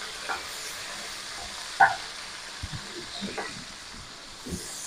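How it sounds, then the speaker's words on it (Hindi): A spoon stirs creamy white chicken kadai in a frying pan, giving a soft continuous sizzle with occasional light scrapes and one sharper clink, close by and without talking. "और अब मैं इसे अच्छे से स्पून चलाऊंगी।"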